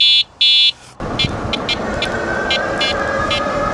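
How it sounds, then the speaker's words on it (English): Two short, high electronic buzzer beeps from a Duotts N26 dual-motor e-bike's handlebar buzzer sound close up, then steady road and motor noise takes over with faint repeated beeps. "Buzzer here, green button."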